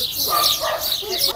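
Several dogs bark and yip in quick, overlapping bursts outdoors at the Pamukkale travertine thermal pools in Turkey, fairly loud and continuous against busy chirping and ambient noise.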